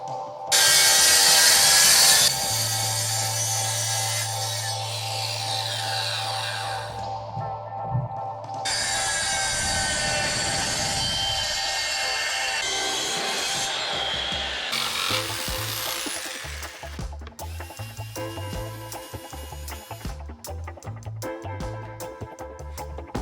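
A power saw cuts plywood strips in a workshop being framed, running in long loud passes with whining and rasping tones, shifting pitch between cuts, close to the mic with no talking.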